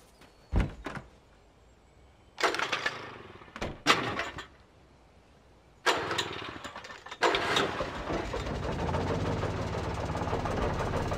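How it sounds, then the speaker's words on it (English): Old generator in the video game Alan Wake sputtering to life: a few sharp knocks and clunks, then bursts of rough engine noise that settle into a loud, steady running drone. "old generator had been connected to the power cable."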